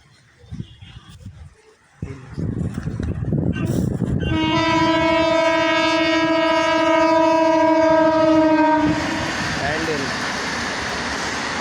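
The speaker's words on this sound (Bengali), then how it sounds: "ওদিকে অনেকক্ষণ ধরে হর্ন মারছে।" A loud, sustained locomotive horn blares for several seconds over rumbling rail noise as local trains approach, after a few seconds of muffled voices.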